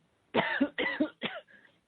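Three harsh coughs in quick succession, close and loud, each a short burst with a trailing rasp, the last weaker and fading.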